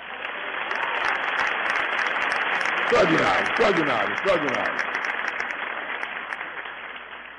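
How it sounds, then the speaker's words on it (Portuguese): An audience applauds at a Brazilian religious gathering, a dense, sustained wash of clapping that swells and then eases, with someone speaking over it. "Vamos oferecer um aplauso para ele agora."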